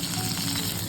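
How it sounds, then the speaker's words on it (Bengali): Bhola fish fry in a pan with a steady, dense sizzle of hot oil, close and continuous without talk. "ভোলা মাছ ফ্রাই হচ্ছে"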